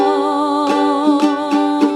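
Steady acoustic guitar chords from the bridge of a song ring out in a down-down-up strum pattern, with a few sharper strum accents spaced through the passage, close and fairly loud, with no voices.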